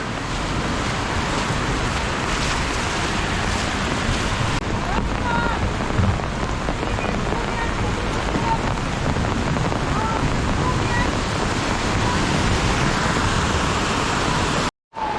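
A river swollen by a downpour in Krynica-Zdrój rushes past as a continuous, loud roar of churning water, steady throughout with a brief dropout near the end.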